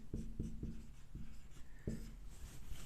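Writing on a board during a Hindi grammar lesson produces a series of soft, low, rhythmic strokes and taps that come close together, pause briefly, then resume, with no speech over them.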